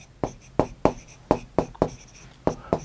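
Chalk or marker strokes on a board during a calculus lesson on differentiation, coming as a series of short, sharp taps and scrapes at an uneven rhythm, close and clear with no talking.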